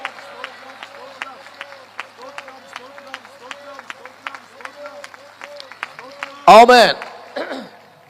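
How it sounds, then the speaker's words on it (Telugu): A church congregation claps in steady, rhythmic praise while a voice speaks over the claps, ending in a brief loud burst of voices. "ఏసైకు స్థుతులు చెబుతూ కొట్టాలి చప్పట్లు"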